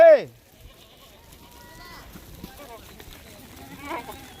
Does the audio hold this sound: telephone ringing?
no